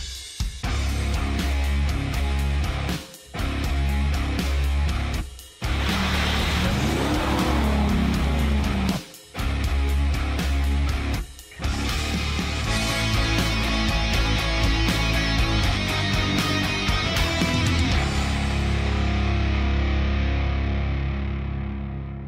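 A Dodge Ram TRX pickup truck's engine roars loud and close in repeated revving bursts, cut by short abrupt gaps, then holds a sustained high run before fading out.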